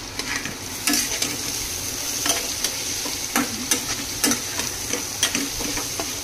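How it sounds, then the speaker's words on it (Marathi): Potato fry being stirred in a hot pan with coriander and kasuri methi, with a steady sizzle under regular scraping strokes of the spoon, close and alone. "आता ह्याला आपण चांगलं व्यवस्थित मिक्स करून घेऊया।"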